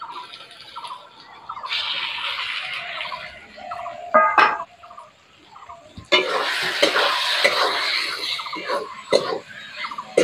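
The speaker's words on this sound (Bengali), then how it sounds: "ভালো করে মশলার সঙ্গে কষে নেব।" Fried potato pieces stir-fried with spices in a pan for a Bengali ghost-fish curry, with steady sizzling and scraping stirs, sharp clatters near the middle, and louder frying in the second half.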